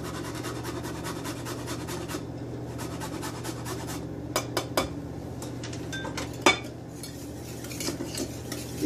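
Béchamel sauce with salt, pepper and grated nutmeg being mixed in a pan, heard as a steady scraping stir with soft utensil clinks against the pan, a few sharper taps, close and without talk.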